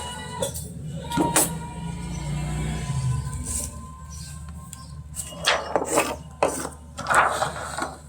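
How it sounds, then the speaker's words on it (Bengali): Paper fiber insulation is cut for a water pump motor coil, giving scraping and rasping cuts with a few sharp snips. They come in irregular bursts, closer and louder toward the end. "এই যে ফাইবারটা কাটিং হইতেছে"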